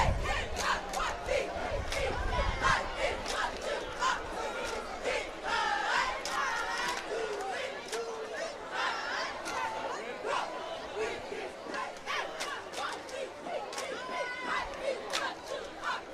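A combined cheer squad and crowd at a high school football game shout and chant together in loud, continuous group cheering from across the field, with chatter mixed through the noise.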